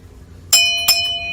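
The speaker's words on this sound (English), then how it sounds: "ring that notification bell" Two bright metallic bell dings ring out in quick succession, each with a sustained shimmering tone, as a notification sound effect over a quiet background.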